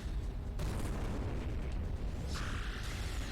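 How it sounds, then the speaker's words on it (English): A giant robot firing missiles and lasers in the game R.A.D. Robot Alchemic Drive, heavy booming explosions and a bright zapping burst over a steady rumbling roar, no talking. "Let's fire some missiles."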